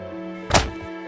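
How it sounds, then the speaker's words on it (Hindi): A single dull thunk of a digging tool striking buried metal, followed by a faint lingering ring. "ये किसी धातु की आवाज लग रही है"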